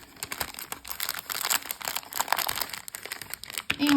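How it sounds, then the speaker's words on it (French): Plastic packaging crinkling and rustling as a Christmas deer decoration is unwrapped, close and continuous with irregular crackles. "Alors, je déballe."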